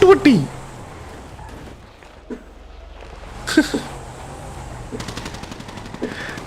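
Gunfire in a competitive online shooter match arrives as a few sharp shots, then a rapid burst of automatic fire near the end, with a voice speaking over the game.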